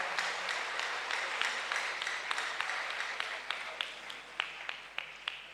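A church congregation claps during a Togolese worship service, broad steady applause with sharper individual claps standing out toward the end, fairly close and continuous throughout.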